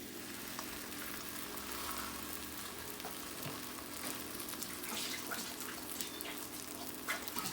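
Naan in oil on a hot tawa gives off a faint, steady sizzle with light crackles throughout.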